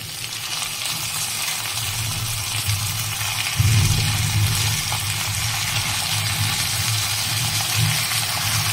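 Goat meat drops into hot oil in a wok after fried onions and whole spices, and a steady loud hiss swells partway through and then holds.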